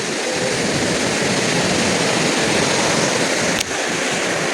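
Loud, continuous roar of sea waves breaking at Kovalam lighthouse beach, a dense steady wash of surf with no distinct pauses.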